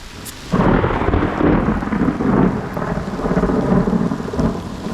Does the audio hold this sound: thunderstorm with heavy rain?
yes